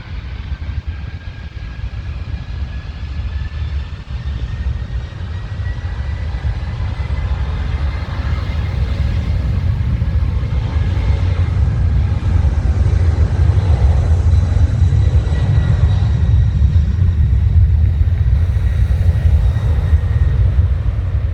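A loud jet engine roar builds steadily into a powerful, continuous rumble as a DHL Airbus A300 cargo plane accelerates for takeoff at Heathrow, with no talking.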